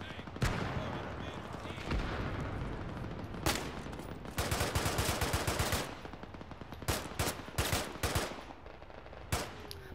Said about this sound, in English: it's machine gun, he's jumping about